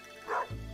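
A dog in the video game Stardew Valley gives a single short, soft bark or yip, close and alone, followed by a low hum.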